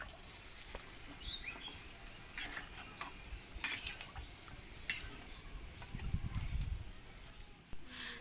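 A meat curry cooks down in a pan with little broth left while a spoon stirs it, giving soft scraping and tapping with a faint sizzle, close and fairly quiet, plus a few brighter clinks.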